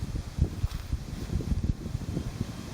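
Outdoor wind gusting across a microphone at a target range, a low rumbling buffet that swells and dips in uneven pulses, steady and fairly close, with no talking.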